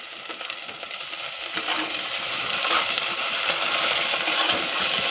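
Ginger garlic paste frying in a hot pan, a steady loud sizzle that builds slightly, with scattered crackles and light clinks from stirring, no voices.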